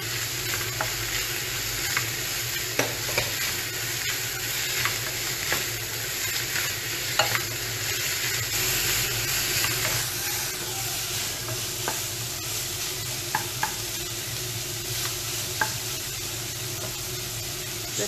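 Onions with a corn and peas mixture fry in a pan, a steady loud sizzle with repeated scrapes and knocks of stirring throughout, no talking.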